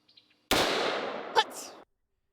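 A single loud gunshot from a scoped rifle fired close by, a sharp blast followed by a decaying roar lasting over a second, with a brief metallic clank in the middle of the tail.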